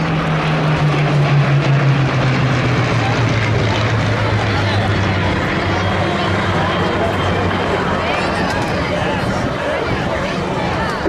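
Two Battle of Britain Memorial Flight aircraft in wartime colours pass over the Armed Forces Day show at Cleethorpes, a loud, sustained engine drone that slowly falls in pitch as they go by, with a commentator talking over it.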